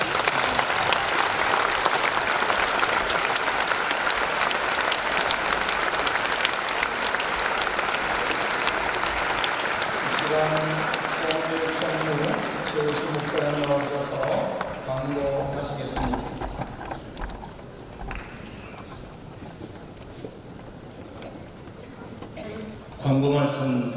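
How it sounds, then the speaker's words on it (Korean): Audience applause fills a church assembly hall during a denominational general assembly inauguration service, loud and sustained at first, then thinning out as a voice begins speaking over the fading clapping. "다시 한번 뜨거운 박수로."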